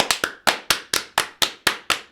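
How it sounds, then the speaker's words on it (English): Two people clap their hands rapidly and loudly at close range, about ten sharp, evenly spaced claps in a quick burst, with no talking over them. "we can both clap like maniacs to start"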